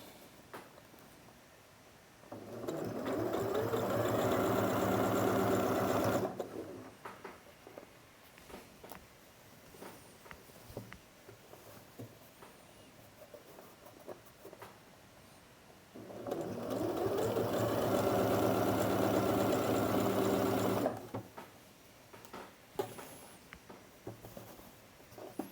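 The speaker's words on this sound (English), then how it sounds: "I am sewing each armhole, every seam effectively twice" A sewing machine stitches an armhole seam on a tailored garment in two long steady bursts of even motor whir, separated by a pause filled with faint handling noises.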